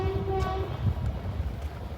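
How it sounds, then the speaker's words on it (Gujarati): A train pulls in with a short, loud horn blast at the start, then a continuous low rumble of rolling wheels and cars nearby. "બાકી લોકેશન જુઓ, રેલગાડી આવે"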